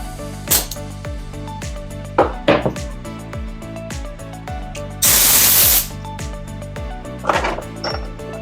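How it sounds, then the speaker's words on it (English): Compressed air hisses into a tubeless bike tire in one loud burst of about a second, surrounded by quieter clicks and ticks of handling. "we're gonna put the air on it. Like I said, definitely try to get a compressor"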